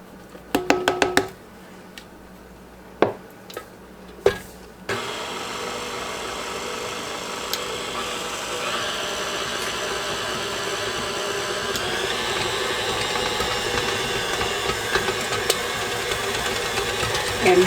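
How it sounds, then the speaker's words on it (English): An electric mixer stirs flour into fresh apple cookie dough. After a few knocks and clatters, the motor whirs steadily and fairly loudly with slight rattles until the end. "now I'm going to stir in just about half of my flour mixture."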